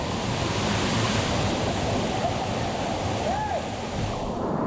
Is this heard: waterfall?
yes